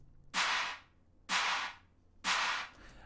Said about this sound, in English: So what I did, I took a clap sound here,